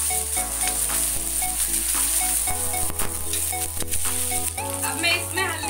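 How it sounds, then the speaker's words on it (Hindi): Loud, dense sizzling of garlic frying in hot oil after panch phoron spices, with crackles and pops over a steady hum, and a brief clatter. "तो देखो पचफोरन तड़क चुका है। अब मैं डालूंगी लहसुन।"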